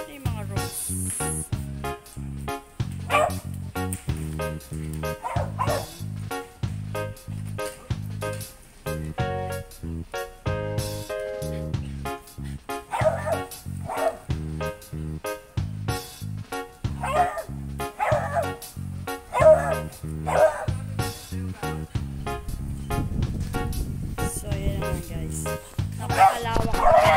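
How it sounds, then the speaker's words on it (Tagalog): Dog barking in a home garden yard among potted roses and orchids, sharp yips and barks repeating throughout, close and fairly loud, mixed with someone talking over it. "Nag-iingay yung aso."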